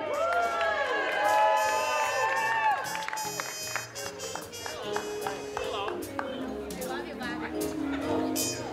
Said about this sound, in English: Ladies and gentlemen, big round of applause for Bobby Voley.